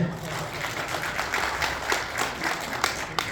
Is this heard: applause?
yes